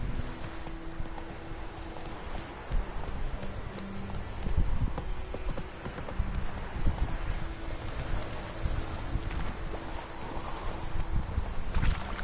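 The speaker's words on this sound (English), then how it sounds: "Whoa there, Roach." Horse hooves gallop in The Witcher 3, a fast, steady clip-clop of hoofbeats on the ground with a faint wind rush behind them, moderately loud and continuous.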